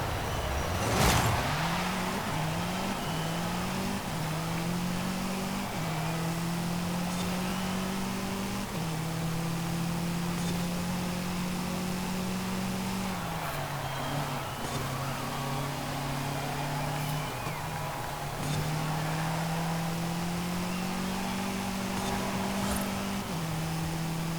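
A Toyota Sports 800's small engine drones and revs through a Forza Horizon 5 race, pitch climbing through each gear and dropping at upshifts in repeated steps, steady and close without any talk.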